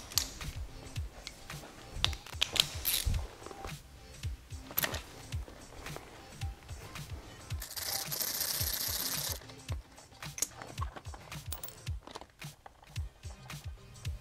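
Screwdriver turning a screw back into the fairing screw boss of a 2013–2016 Honda Grom MX125, heard as steady, close ratcheting clicks and mechanical ticks with a brief louder whir in the middle.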